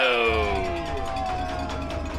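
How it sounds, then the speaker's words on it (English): A baseball crowd at a playoff game in Barrie roars and cheers steadily as the pitcher nears a strikeout, broad crowd noise sustained throughout with a fading whistle-like tone near the start. "now you'll hear this crowd come alive"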